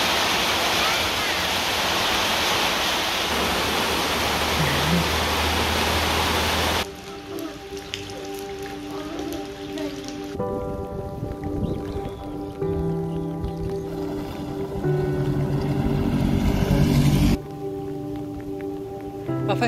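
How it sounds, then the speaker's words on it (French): Heavy tropical rain falls in the Amazon during a bicycle journey. It makes a dense, loud hiss that is strongest at first, then continues as a steady wash with shifting background tones. "aujourd'hui, pluie tropicale au menu"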